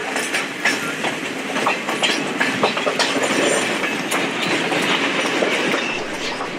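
A local passenger train in Sri Lanka rolls along the rails with a steady rumble and rhythmic clickety-clack of wheels over joints, loud and close throughout with no talk.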